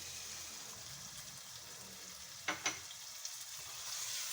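Tamarind water poured into red bean (lal lobia) masala frying in a pan: a steady sizzle with a couple of brief splashy bursts midway, close and fairly soft.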